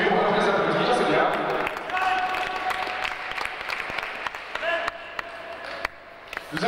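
Audience applauding a Kyokushin karate team demonstration, with dense clapping that thins into scattered claps and sharp slaps over several seconds while someone speaks over it.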